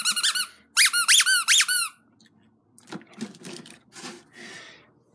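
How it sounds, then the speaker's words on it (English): A squeaky rat toy gives a short high squeak followed by three loud pitched squeaks in quick succession, close up, then quieter rustling and handling clicks. "And I got my squeaky rat ready for Halloween."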